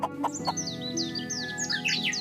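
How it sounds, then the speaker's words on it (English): Birds chirp in quick bright bursts over low clucking fowl, a busy farmyard chorus close by; no distinct crowing stands out. "You can hear roosters from the neighboring farms"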